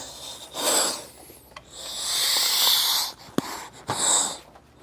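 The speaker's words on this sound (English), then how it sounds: "you can squeeze all the air out of the bag" Air hissing out of a rear air helper spring bag through a Schrader valve on a LoadLifter 5000 installation, heard as several close breathy hissing bursts of a few seconds each with short pauses and a sharp click between them.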